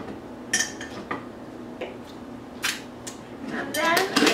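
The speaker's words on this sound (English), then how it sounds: "I'm just going to grab a fork so I can kind of toss everything together" Burrito bowl ingredients get tossed with a fork in a bowl: scattered clinks and scrapes of metal on dishware, close by, with a voice talking throughout.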